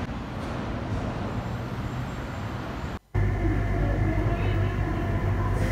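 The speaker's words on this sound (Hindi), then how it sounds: "मेट्रो आने वाला है।" A metro train arrives in Bangalore, rumbling on the tracks, with a brief dropout partway through before the low roar returns louder and closer.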